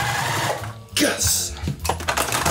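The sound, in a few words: sewing machine stitching quilt strips together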